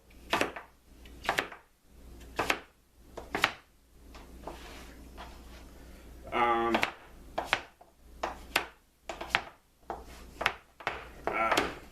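A sharpened older knife chopping pumpkin into small pieces on a board, a series of close, crisp knocks in an irregular rhythm, with a brief scraping sound partway through.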